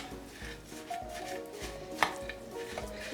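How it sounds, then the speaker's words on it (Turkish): Poppy seed paste is crushed and worked with melted butter and oil, making repeated dull pressing knocks and scraping against a bowl, close by and quiet, with one sharper clack partway through. "Şöyle haşhaşı eziyorum."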